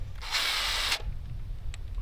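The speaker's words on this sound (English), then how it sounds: "now that I have a little hole drill here, I'm going to drill it out" A small hole-cutting drill bit bores out a hole in a DIY dolly track, a loud, steady one-second whine of the power drill near the mic, followed by quiet handling clicks.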